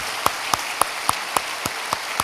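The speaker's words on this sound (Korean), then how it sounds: "여러분 뜨거운 박수로 환영해 주시기 바랍니다" Audience applause in a church service welcoming guests, heard as a sparse, steady run of about eight sharp claps evenly spaced over two seconds rather than a dense roar.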